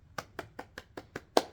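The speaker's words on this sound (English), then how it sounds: "Give yourself a round of applause." Hands clap seven times in an even rhythm, each clap sharp and close, with the last clap loudest and no other sound around them.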